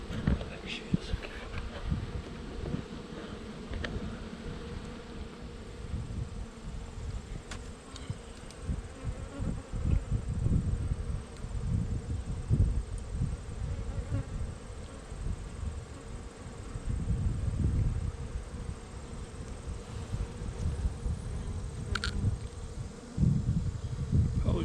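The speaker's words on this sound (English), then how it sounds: "ton of bees in there" Inside an open beehive during a state inspection, a dense mass of bees hums with a loud, continuous, slightly wavering buzz that lasts throughout, close to the microphone.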